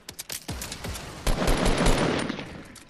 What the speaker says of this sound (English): Oh, where they shooting from?